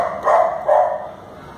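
A dog barks twice in quick succession, loud and close, short sharp yaps with no talking over them.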